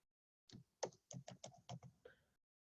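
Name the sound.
typing on a computer keyboard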